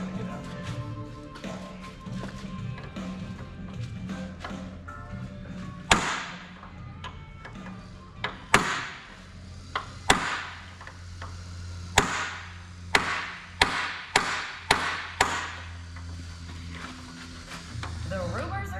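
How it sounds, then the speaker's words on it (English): A hammer strikes out an old rivet from an aircraft canopy, with sharp, ringing metallic taps that come sparse at first and then land in a quicker series, over a low background hum and some talking. "I've got one rivet here to get out."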